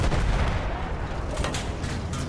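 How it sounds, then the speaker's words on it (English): Heavy artillery fire hitting players on a muddy Battlefield 1 battlefield, including a field gun, with a loud, dense rumble of booms and blasts rolling continuously throughout. "we have artillery hitting us"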